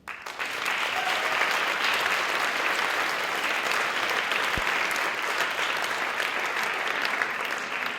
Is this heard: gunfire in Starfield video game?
no